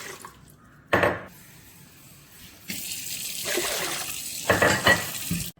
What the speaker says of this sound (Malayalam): നമുക്ക് 2 ലിറ്റർ വെള്ളം ഒഴിക്കണം.